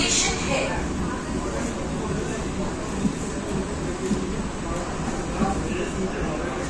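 A new air-conditioned local train on the Sealdah–Ranaghat line pulling into Khardah station, a steady low rumble and hum from inside the carriage that runs unbroken while a voice talks over it.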